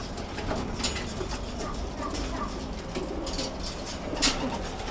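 Racing pigeons coo repeatedly at the landing board of their loft after a 600 km race in Kirkuk, with soft, low coos and occasional wing flutters over a steady outdoor background.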